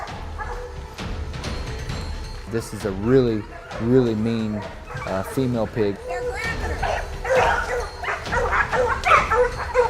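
Hunting dogs bark and yip excitedly in bursts at a cornered pig while someone speaks over the commotion, with rustling and scuffling noises outdoors.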